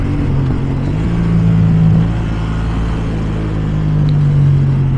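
A Yamaha R7 motorcycle is ridden along, its engine droning loud and steady with wind rumble throughout and slight shifts in engine pitch, with no talking.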